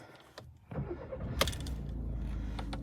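Skoda Octavia A7 from 2017–2018 with 222 thousand on the clock starting up inside the cabin: a click, a brief cranking whir, then the engine catching into a steady low idle, close with no talk.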